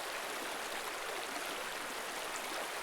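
River water rushing through a Costa Rica tropical forest, a steady broadband wash with no breaks, close and fairly loud, with no voices or other sounds.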